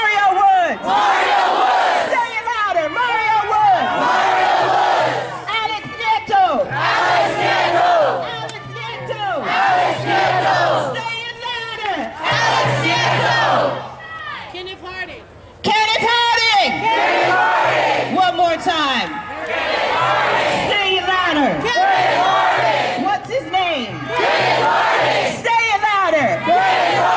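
A protest crowd chants a name in loud repeated call-and-response rounds, a leader's voice alternating with the massed chorus, with short pauses between bursts.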